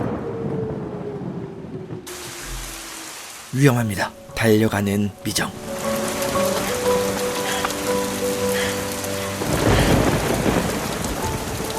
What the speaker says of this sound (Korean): 그때 구씨의 집 앞에서 번개가 칩니다.